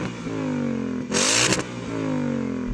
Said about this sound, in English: Go on, rev up the V8.